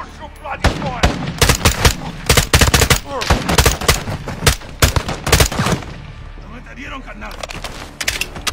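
A video game firefight in the mountains as an army closes in: dense, rapid gunfire with automatic bursts and single heavy shots cracking close and loud, with shouting voices mixed in and a brief lull near the end.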